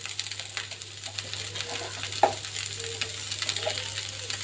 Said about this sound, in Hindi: अभी मेरे आलू थोड़ा भून चुके हैं, इसमें मैं मसाला डालूंगी